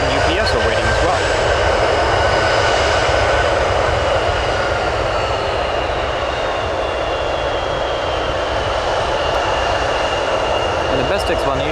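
Jet airliners taxi at Chicago O'Hare airport, including a Republic Embraer 175, with a loud continuous engine roar and whine that holds steady throughout.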